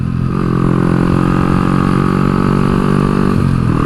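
Motorcycle engine held at high revs during a run-in ride, a loud, steady, close buzzing roar that climbs slightly in pitch before easing near the end.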